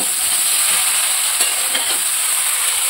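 Mango pickle being stirred in a pan while cooking: a steady, close sizzling hiss, with a few soft scraping strokes from the spoon and no talking.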